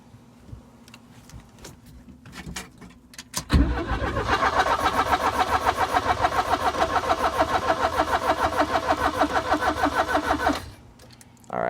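A classic barn find car's engine cranked by the starter, a close, loud, rhythmic chugging whir that runs steadily for about seven seconds and then stops without catching, with faint clicks before and after.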